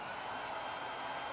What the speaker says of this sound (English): once I turn the hair dryer back on